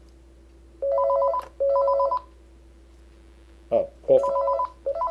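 Intercom call from the base of a Panasonic KX-TG6441 cordless telephone: a handset rings in clear electronic tone bursts, two near-identical trills, a gap, then more, loud and close, with a brief spoken exclamation between.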